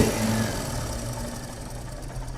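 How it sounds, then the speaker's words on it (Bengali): A repaired Royal Enfield motorcycle engine with a fixed cracked crankcase idles steadily nearby, a low even thumping hum with a faint mechanical ticking on top and no voices. "ইঞ্জিনের সাউন্ডটা শুনতেই পাচ্ছেন কেমন ইঞ্জিনের সাউন্ড হয়েছে।"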